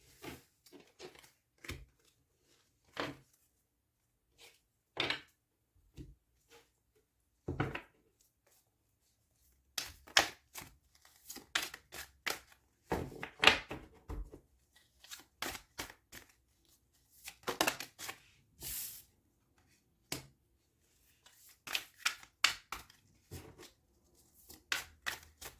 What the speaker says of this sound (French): je vais maintenant vous tirer quelques cartes avec les cartes conseils